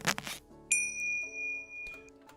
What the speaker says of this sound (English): So the first sound is a rubber glove, like stretching a rubber glove, right? And then obviously the bell